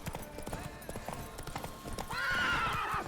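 Roach the horse galloping in The Witcher 3, a quick run of clip-clop hoofbeats that ends in a loud, drawn-out whinny lasting about a second.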